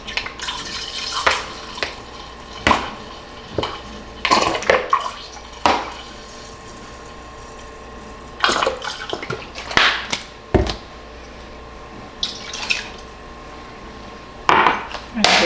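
Vinegar and lemon juice poured into a bowl of fresh black bean and corn salsa: splashy pouring bursts and wet clinks of a cup or utensil against the bowl, close and irregular, with pauses between.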